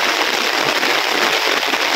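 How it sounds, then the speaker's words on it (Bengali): Heavy rain falls in a dense, loud, unbroken hiss close by, with no voices over it. "প্রচন্ড বৃষ্টি।"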